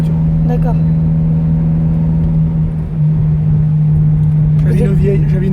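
A Ferrari F430 on track at the Le Vigeant circuit holds a loud, steady engine drone from inside the car, while people talk over it.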